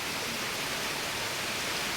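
Very heavy rain pours down in a steady, dense hiss that fills the air without pause.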